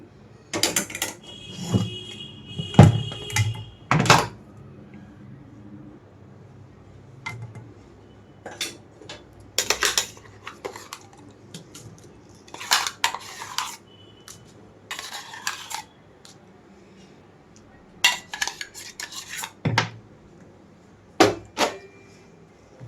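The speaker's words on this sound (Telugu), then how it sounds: "ఇప్పుడైతే తాలింపు పెట్టుకున్న పాన్లోకి చట్నీ మొత్తం వేసేసుకుంటున్నాను." Coarsely ground tomato chutney is scraped and tipped from a vessel into a pan of tempering, producing scattered metallic clinks, taps and scrapes of spoon against cookware with quiet pauses between bursts.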